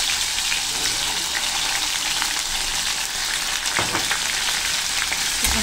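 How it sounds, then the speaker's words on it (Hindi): Cumin seeds dropped into hot oil in a kadhai, giving a loud, steady, crackling sizzle throughout, with a few soft clinks from a spoon near the end. "तेल हमारा गर्म हो चुका है, इसमें हम जीरा डालेंगे"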